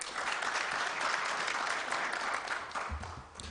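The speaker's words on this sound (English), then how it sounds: "Can we give a better round of applause, please?" Audience applause at a university event fills the room with steady, dense clapping that stays loud for several seconds before starting to thin out near the end.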